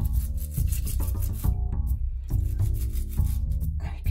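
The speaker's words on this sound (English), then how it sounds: "Going to scrape that out." A toilet brush scrapes mineral deposits inside a Kohler toilet, making close, rhythmic rasping strokes in quick repeated bursts with brief gaps between them.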